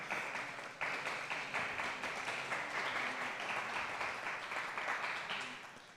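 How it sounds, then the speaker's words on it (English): A small audience at a psychedelics convention gives a soft, quiet patter of clapping that holds steady for several seconds and then fades out. "we could do a little micro clap."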